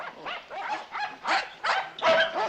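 Dog barking on a TV sitcom soundtrack, a string of short yapping barks close to the microphone, repeating several times over a couple of seconds with brief gaps between them.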